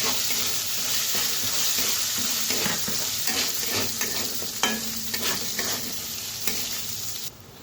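Washed rice sizzles in a hot pan while a spatula scrapes and stirs it in irregular strokes, close and steady, before the sizzle suddenly drops away near the end. No one speaks.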